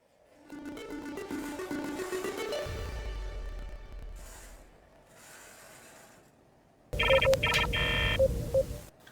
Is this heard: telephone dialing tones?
yes